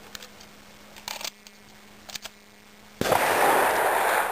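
Pistol gunshots during IPSC precision shooting practice: a couple of sharp cracks, then a loud blast whose noisy roar fills the rest of the moment.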